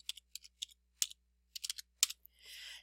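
Someone types a search into a computer keyboard: clusters of crisp, close key clicks come in irregular bursts with short pauses, ending with a brief soft rustling hiss.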